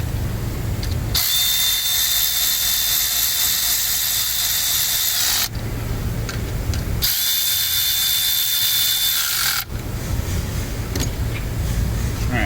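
A power tool, likely an impact driver or ratchet, runs down 8 mm bolts on a Ford EcoBoost 3.5 engine during a VCT phaser job, in two long loud whirring bursts separated by a brief pause, close up.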